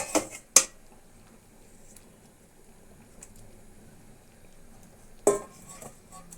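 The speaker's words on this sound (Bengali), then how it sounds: "কেটে রাখা টমেটোটাও দিয়ে দিচ্ছি।" Chopped tomato and green chilli go into a cooking pot with a few sharp metallic clinks of utensil on pot, two close together near the start and one later, with near silence between.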